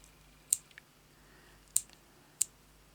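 Scissors snip bits of lace and fabric in three sharp, close clicks spaced about a second apart, in a quiet room.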